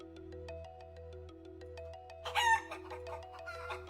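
A short rooster crow or chicken squawk sound effect bursts out briefly in a flight simulator stream, over a steady tonal background with repeating electronic beeps, no talk.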